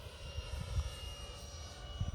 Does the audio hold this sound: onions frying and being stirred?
no